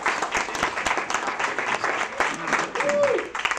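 A group of people gathered indoors in Orlando clapping together, a dense steady patter of applause lasting the whole stretch with a few louder claps standing out, close and fairly loud.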